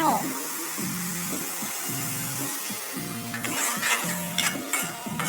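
Cinnamon and star anise stir-fry over low heat in rendered pork fat for braised pork belly, a constant broad hiss with a voice talking over it and clattering pan-scraping strokes toward the end.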